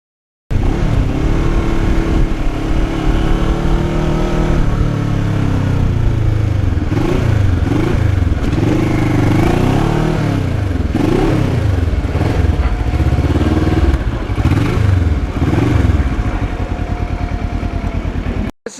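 A Kawasaki Ninja motorcycle engine drones loudly and steadily throughout a ride, with the pitch rising and falling through repeated throttle changes and gear shifts, close and continuous with no talk.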